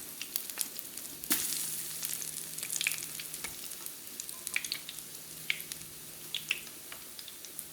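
Mochiko-coated mahi mahi steaks fry in a pan with a steady, soft sizzle that is crackly and dotted with small pops and faint stirring sounds, heard up close with no talking.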